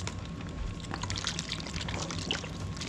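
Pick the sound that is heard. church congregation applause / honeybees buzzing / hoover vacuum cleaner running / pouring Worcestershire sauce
pouring Worcestershire sauce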